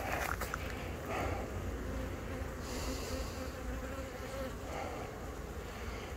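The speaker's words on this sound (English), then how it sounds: "this hive has been the most active all day long" Bees from an active hive drone in a steady, dense buzz that fills the whole stretch, close and continuous, with small swells as insects pass near.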